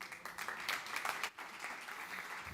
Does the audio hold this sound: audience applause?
yes